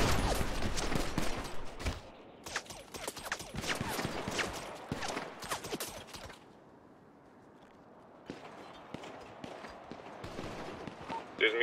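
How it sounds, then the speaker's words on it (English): Gunfire from a shootout in a GTA roleplay game, bursts of shots in the first two seconds and again around two to six seconds, quieter in between, with dense layered bangs near and loud over game noise. "We shot it out for a minute."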